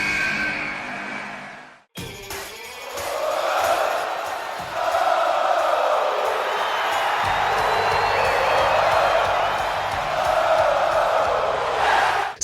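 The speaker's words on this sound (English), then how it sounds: "The crowd explodes." A WWE video game arena crowd erupts after a short quiet moment, sending out a loud, sustained wash of cheering and whooping that stays dense and roaring throughout.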